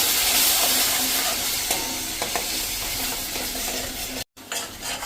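Tomato puree poured into sizzling masala in a pan for a fenugreek muthiya curry, a loud, continuous hissing sizzle with faint stirring, briefly cutting out near the end.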